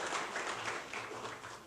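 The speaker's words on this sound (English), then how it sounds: "please join me in another round of applause" Applause from an audience honoring the Nutley St. Patrick's Day Parade contingent at an Irish celebration, a steady, fairly faint wash of clapping that holds evenly throughout.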